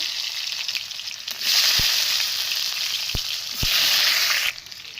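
Onions frying in hot oil in a pan after spices have crackled, a steady close sizzle that swells louder twice, with a few sharp clicks of stirring and no talk.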